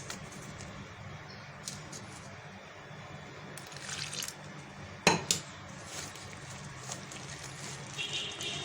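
Water poured a little at a time into half a kilo of dough for Alexandrian hawawshi, with soft liquid trickling and squishing among kitchen clatter and one sharp knock partway through.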